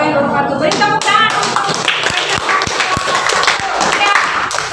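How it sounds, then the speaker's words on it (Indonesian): A classroom of students claps together, a dense patter of hands with some louder individual claps standing out, while voices talk over and around the applause. "Beri tepuk tangan."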